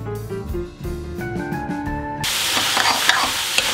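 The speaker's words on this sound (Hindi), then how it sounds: "तो पनीर डालने के बाद इसे दो से तीन मिनट तक भूनेंगे ऐसे ही चलाते हुए।" Tonal background music plays first, then grated paneer for bhurji sizzles and is stirred in a pan, producing steady frying hiss with scraping, clinking stirs up close.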